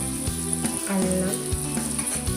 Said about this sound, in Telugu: ఈ ఆనియన్స్ కోసేపు మగ్గనిద్దాం.